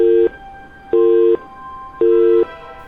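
Phone busy tone after a call is cut off in a horror radio drama: three identical steady beeps, evenly spaced with short silences between, clear and alone.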